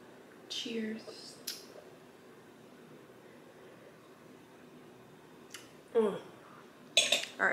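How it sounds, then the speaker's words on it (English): Dishes and cutlery clink and scrape in a home kitchen in a few short bursts with quiet gaps between, and a soft voice is heard near the start. "Alright, let's clean the dishes."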